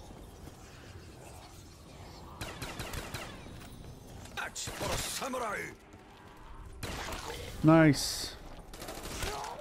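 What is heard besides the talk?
gunfire in Black Ops 3 Zombies video game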